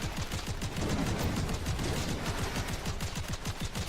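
Rapid, continuous gunfire from the video game Seraph, dense bursts of shots rattling steadily and loudly throughout with no pauses or talking.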